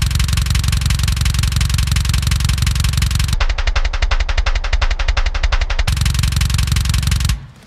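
A double bass drum played with four pedals at 170 BPM, an extremely fast, dense and loud machine-gun-like stream of kick hits that changes tone midway and stops abruptly at the end, with no talking.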